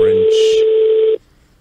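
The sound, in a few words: telephone ringing during a call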